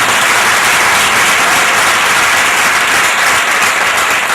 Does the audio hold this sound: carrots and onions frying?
no